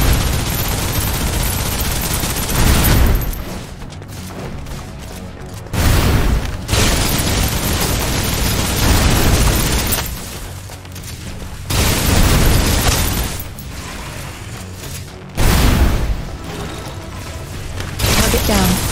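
Sustained suppressive gunfire in the shooter game Snowbreak: Containment Zone, dense continuous automatic fire and booming blasts in long loud stretches broken by brief pauses, with a voice speaking in places.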